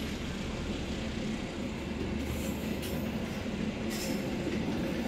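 A train pulls into a busy Jakarta station at night, a steady loud rumble of rolling cars filling the platform with a few faint wheel squeals and clicks over the rails.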